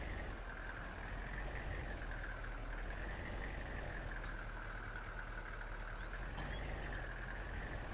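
Small tractor engine idling steadily in Farming Simulator 22, a continuous low rumble with a droning mid-range hum that wavers slightly, heard close and alone with no talk.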